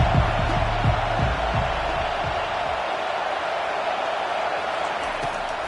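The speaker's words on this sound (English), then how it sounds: "This crowd trying to make life miserable for this offense." Stadium crowd noise from the College Football 25 video game during an SMU versus Texas matchup, a broad steady roar with a few low thumps early on, continuous and moderately loud throughout.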